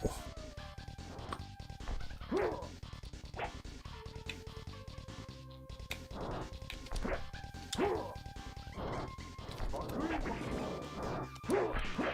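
Dog barks and yips mixed with smashing hit effects from the SNES fighting game Samurai Shodown, recurring in quick bursts over a steady busy game soundtrack, with some talk alongside.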